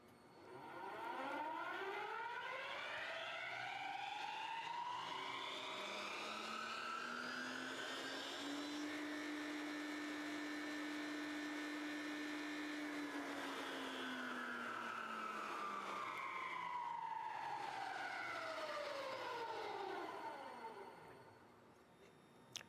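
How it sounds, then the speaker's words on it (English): A Ryerson Hyperloop wheel test rig spins its wheel system through a full run cycle, with a loud continuous whine that climbs steadily in pitch through acceleration, holds at cruise speed, then falls away through deceleration, with no talking. "these wheels would spin the wheel system up so it would feel the same loading and effects as you would at very high speeds"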